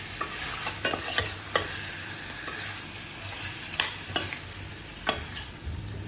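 Chili powder and pepper stirred in a sizzling pan for chicken curry, a steady hiss of frying punctuated by repeated scraping strokes and metallic taps of the spoon.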